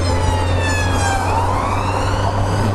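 Wailing emergency vehicle siren sweeping up and down, loud and steady over a constant low engine drone, as heard from a motorcycle lane splitting in traffic.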